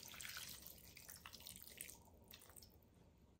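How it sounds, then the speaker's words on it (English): Water being poured into a crockpot of chicken chili, a faint splashing trickle with drip-like bursts that fades toward the end, heard alone without talk. "I decided to add a little water."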